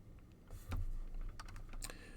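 A few light keystrokes click on a computer keyboard, spaced irregularly over a steady low room hum.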